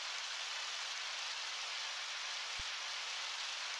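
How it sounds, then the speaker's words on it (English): Rain falling in the video game Undertale, a steady soft hiss of drops that holds evenly throughout, with one brief low thump partway through and no voices. "Oh, it's raining."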